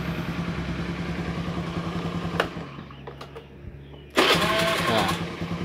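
Honda Beat carburetor scooter engine starting with a double starter, a running idle chugging steadily, then a dip, and a sharp restart into a louder revving idle, with someone talking over parts.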